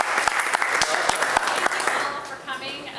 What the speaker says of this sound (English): So let's hear a big round of applause for Ingrid Alongi